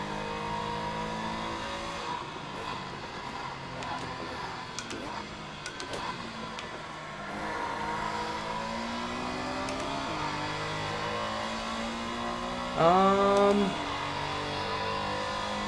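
Race car engine in a racing video game at Imola, throttle feathered, a continuous droning whine rising and falling in pitch with a brief sharper rev near the end, under a quiet voice.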